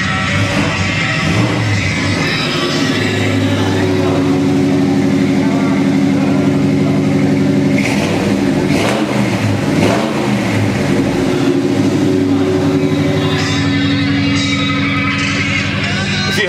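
A 1972 Ford Ranger XLT pickup engine idling and then revving up and settling, loud and close, with someone talking over the steady engine drone.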